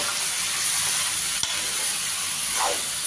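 Chicken curry is stirred in a pan while it sizzles, a steady close hiss and bubbling fry with a single sharp tap of the spoon midway and a brief scrape near the end.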